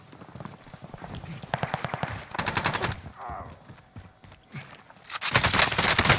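Rapid gunfire from the Warzone video game, with repeated bursts of automatic fire in clustered volleys, fairly loud and close, and a brief pause midway.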